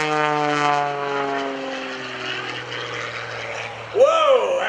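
An aerobatic propeller airplane performing at the 2012 Greenwood Lake Airshow drones with a strong harmonic engine tone that shifts in pitch as it maneuvers, swelling into a sharp louder surge near the end.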